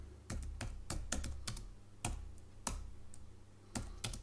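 Code being typed on a computer keyboard in Dolphin Smalltalk, with crisp close key taps in an irregular run of single presses and quick pairs, heard alone.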